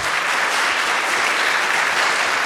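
Audience applause for a guest speaker at the end of an event, a dense, loud wash of many hands clapping evenly throughout, with no talking over it.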